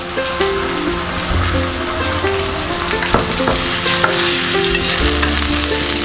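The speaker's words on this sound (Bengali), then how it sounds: "দিয়ে ভালো করে নাড়বো যাতে কাঁচা গন্ধ না থাকে" Potatoes frying with cumin paste in a pan, stirred hard: a loud, dense crackling sizzle with scraping spatula strokes throughout, and no talking.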